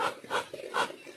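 A stray dog pants close by in quick, rhythmic breaths, about three or four heavy huffs in a second, with no talking.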